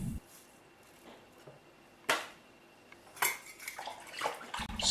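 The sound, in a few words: stirring the wort with ale yeast in a brew bin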